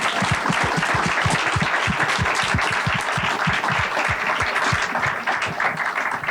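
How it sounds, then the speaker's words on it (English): An audience at a mental health in sports event gives TJ Farrell a big round of applause, loud, close, rhythmic clapping that stays dense and even throughout with no one speaking. "So big round of applause for TJ as well."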